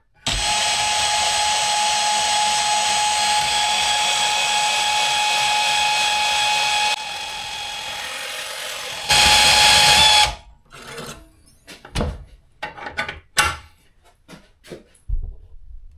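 A Milwaukee M18 cordless portable bandsaw cuts through a piece of clamped metal, a steady loud whine that runs for several seconds, shifts pitch, then stops, followed by scattered handling clunks and knocks.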